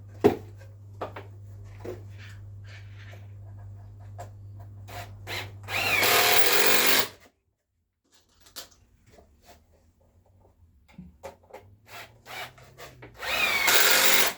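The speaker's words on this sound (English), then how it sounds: "I can now screw all these down when I find my screwdriver." A power screwdriver whirs as screws are driven into wooden floorboards, with a steady motor hum, short loud grinding bursts as each screw bites, clatter and handling noises between, and quiet gaps.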